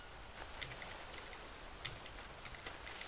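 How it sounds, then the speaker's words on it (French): Light evening rain falls in the jungle survival game Green Hell, a faint, steady patter with scattered soft drops and no voices. "La petite pluie du soir."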